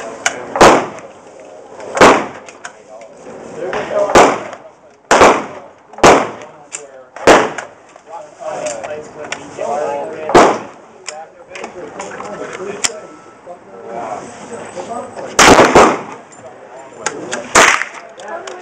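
Pistol shots ring out at a shooting range, about a dozen sharp, loud cracks spaced irregularly a second or two apart, with people talking between and under the shots.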